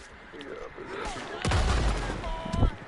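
Bursts of gunfire crack and boom amid a chaotic soundscape, with a couple of loud close shots and distant rumble under talking voices.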